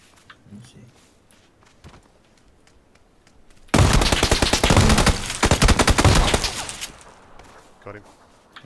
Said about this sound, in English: Watch out, someone else is shooting.